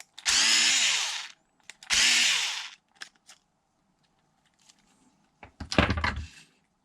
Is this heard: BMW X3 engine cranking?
no